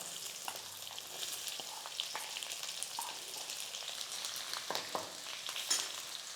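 Chopped onions with curry leaves and green chillies fry in hot oil for a fish curry, giving a steady, close crackling sizzle with occasional sharper pops and stirring sounds throughout.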